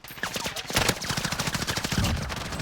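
Rapid automatic gunfire rattles in bursts during a Call of Duty Warzone match, with close sharp shots in quick succession and a faint voice underneath.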